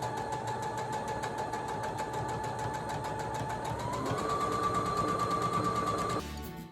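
A sewing machine runs slowly and steadily through quilt block pieces, a continuous close mechanical whir with a rapid even stitching rhythm that rises slightly in pitch near the end before stopping abruptly.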